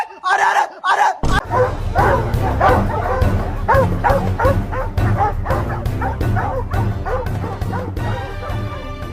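A dog barks repeatedly at close range, sharp rhythmic yips and barks coming in a fast steady series after a short burst of talk at the start, with faint whimpering mixed in.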